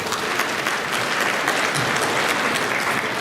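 Audience at a charity gala in Toronto clapping in sustained, dense applause, loud and even throughout with no break.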